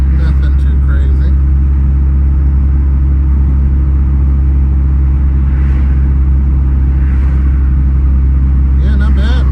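A Chrysler Conquest car driving, a loud, steady low engine drone and road rumble inside the cabin, with brief rattles and higher clicks near the start and end; no clear talking.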